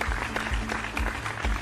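Applause for the band of the Vocal Fusion Season 9 show, with a steady clapping texture over a rhythmic low musical beat, moderately loud.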